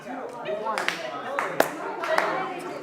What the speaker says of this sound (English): Instead of saying 2, you clap.